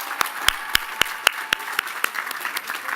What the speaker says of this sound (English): How about a round of applause for the men and women working with buildings and grounds?